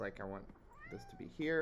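A pet cat meows close by, several short tonal cries interleaved with a person speaking quietly nearby.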